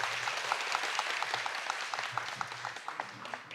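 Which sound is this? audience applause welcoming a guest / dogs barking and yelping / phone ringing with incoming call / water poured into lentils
audience applause welcoming a guest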